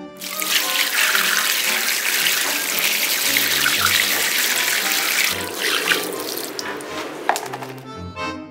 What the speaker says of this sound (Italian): il collaudo consiste nel buttare a terra un bel secchio d'acqua